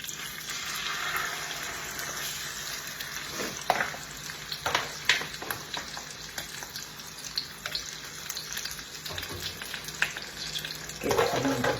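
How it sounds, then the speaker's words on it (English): Quiet, steady sizzling and crackling of chicken skin frying in a pan, with a few louder pops and a clatter near the end. "we got a little sizzle"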